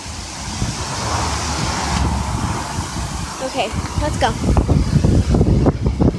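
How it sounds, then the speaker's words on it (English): Wind gusts buffet the microphone outdoors in a yard, a steady low rumble that swells louder toward the end while a person speaks briefly over it. "Ooh, it's windy out here."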